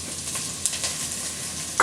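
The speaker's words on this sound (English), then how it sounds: "I've heated my olive oil in my Dutch oven, and now I'm adding my chopped onion" Chopped onion hitting heated olive oil in a Dutch oven, a short steady sizzle with a couple of small clicks and a brief scrape at the end, close and without voices.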